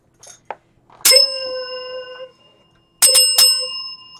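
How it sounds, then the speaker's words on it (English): A bicycle-style bell rung twice during a live tool talk stream to welcome a new channel member, bright ringing dings with long decaying tones, the second strike a quick double ring, close and loud with no talk over it. "You going to do the bell there?"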